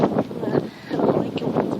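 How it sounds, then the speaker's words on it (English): Gusty wind buffets the microphone in rough, rumbling bursts, close and fairly loud, with brief lulls between gusts. "it's so windy"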